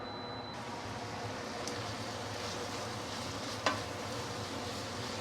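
Penang-style fried kuay teow noodles are tossed and fried over raised heat with sweetened dark soy sauce, giving a steady close sizzle with a faint scrape of the spatula.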